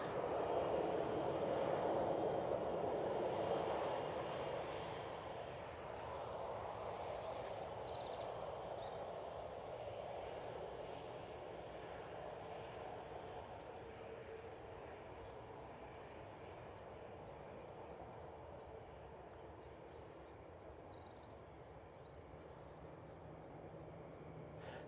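An Emirates airliner at Manchester Airport gives a distant, fairly faint jet rumble that is strongest at the start, then eases off and lingers as a low steady drone, with no voices present.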